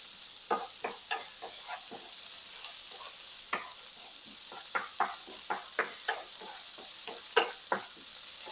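Chopped onion frying in a very hot pan for mole sauce gives a steady sizzle, with a string of sharp stirring scrapes and pops on top, close up and without speech.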